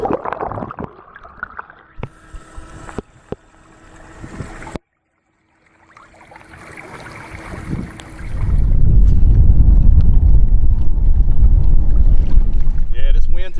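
Blustery winter wind blows across the water on a fishing boat near Port Lavaca, Texas, building from a light rushing hiss to a loud, steady roar buffeting the microphone. A voice comes early.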